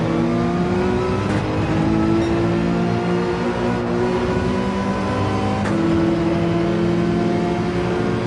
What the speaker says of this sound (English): we can hear that AMG